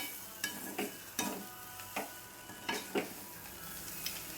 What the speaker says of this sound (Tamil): சாதத்தை கொட்டியாச்சு. இப்போ நல்லா கிளறி விட்டுக்கலாம்.